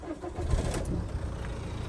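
A Ford Focus 1.6 diesel engine cranks and catches, a brief broadband start burst that settles into a steady low rumble, heard close by with no talking.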